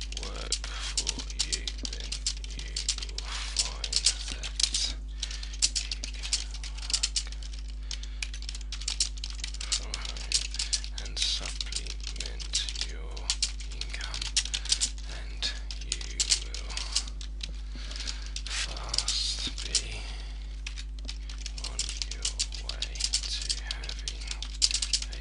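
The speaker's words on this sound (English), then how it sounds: "you will see how bad my typing really is" Rapid, uneven keystrokes clatter on a computer keyboard at close range, continuing for about 25 seconds over a low steady hum, with occasional pauses and louder taps.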